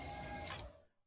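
A sci-fi sliding door opens in a video game, a dense mechanical whoosh that holds steady for most of a second, then quickly fades to silence.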